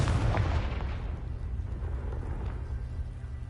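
A Confringo blast spell fires in a wizarding video game, giving a loud, deep boom at the start that rumbles and fades into a low, steady roar.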